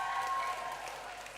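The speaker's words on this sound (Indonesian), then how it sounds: "Tepuk tangan dulu buat remaja lah kalau gitu." An audience at a youth Easter church service claps together, a dense burst of applause that gradually tapers off.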